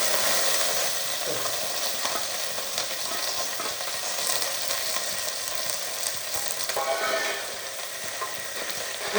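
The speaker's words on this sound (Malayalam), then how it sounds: "അപ്പോൾ നമുക്ക് ഇനി വറവിടാം" Spices such as mustard seeds, dried red chilies and curry leaves tempering in hot oil for a radish sambar, giving a continuous bright sizzle with faint crackles and stirring, no talking.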